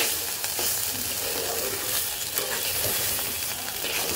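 Chicken biryani ingredients frying in a pot, a dense, loud, continuous sizzle with faint stirring movements mixed in, close up and unbroken throughout, no talking.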